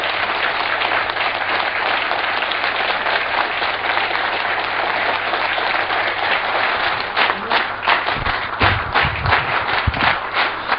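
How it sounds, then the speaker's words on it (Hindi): An indoor audience applauds to welcome a speaker to a training session, a loud, dense, sustained clapping that thins into scattered claps near the end. "जोरदार तालियों के बीच में स्वागत करते हैं चेतन सर का।"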